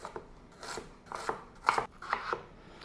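Potatoes are cut into bite-sized pieces with a knife on a board for a hearty chicken stew, giving a series of close, distinct chopping thuds in an uneven rhythm.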